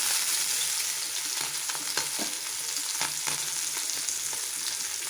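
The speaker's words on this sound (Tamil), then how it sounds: "எண்ணெய் சூடானோடனே நம்ம மீனை ஒன் பை ஒன்றா ஆட் பண்ணிடலாம்" Kilanga fish are laid one by one into hot oil for a Chettinad-style fry, giving a loud, continuous bright sizzle with small pops and stirring scrapes close by. No one speaks.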